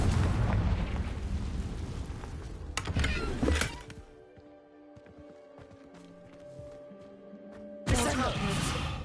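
Game sounds from Hogwarts Legacy: a Confringo fire-blast spell explodes in loud booming bursts, followed by a quieter stretch with a held tone, then another loud blast at the end, with a voice speaking over the opening.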